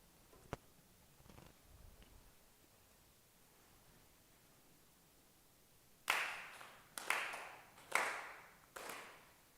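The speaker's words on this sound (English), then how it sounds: "solemn acknowledgement for sincere claps" Ritual hand claps at a memorial service prayer: four sharp, evenly spaced claps ring out in a quiet hall after a few faint taps and rustles.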